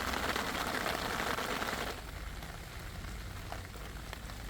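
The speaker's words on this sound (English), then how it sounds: "It's tipping it down with rain now." Heavy rain pours down steadily in a dense, hissing wash, loud at first and then easing slightly to a softer but still continuous downpour.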